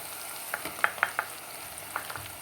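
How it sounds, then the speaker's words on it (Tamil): Tomatoes sauté with salt in a pan, with a soft continuous sizzle broken by a handful of crisp spatula clicks and scrapes at an irregular pace, close and without speech. "லைட்டாக உப்பு போட்டு நல்லா வதக்கிக்கோங்க பாருங்கள் தக்காளி பழம் நல்லா வதங்கிட்டு"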